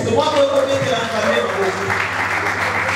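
A church congregation breaks into sustained applause and cheering, a dense crowd wash lasting several seconds, while a preacher's voice carries over it.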